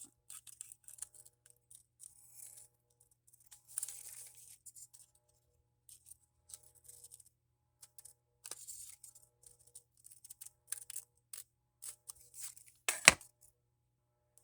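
Scissors snip through craft material while cutting out a strap for a dinosaur journal in a home craft area, giving quiet, intermittent cutting and rustling sounds in short bursts, with a sharper click near the end.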